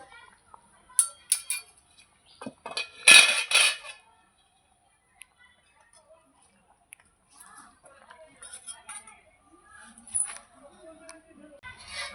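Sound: lifting the lid off a pot of simmering fish curry

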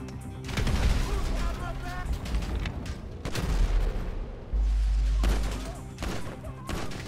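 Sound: frag grenade explosion and gunfire in video game GTA 5

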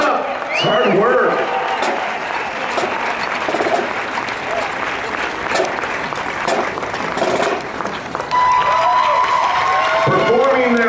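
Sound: audience applause and cheering for marching band

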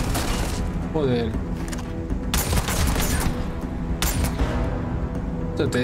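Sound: gunfire in the video game Starfield

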